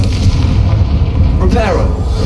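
A Confringo fire spell bursts in Hogwarts Legacy, giving a loud, boomy blast that rolls beneath a dense game soundscape, while a voice speaks briefly partway through.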